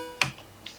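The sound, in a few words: Max for Live Clang device video-game-like sound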